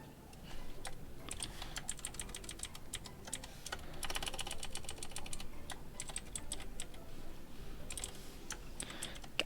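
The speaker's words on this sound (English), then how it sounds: "People can hear when I'm typing, and it's abysmally loud." Fast, continuous clatter of a loud clicky computer keyboard being typed on nearby, with bursts of rapid keystrokes and a few brief pauses, steady and fairly quiet with no talking over it.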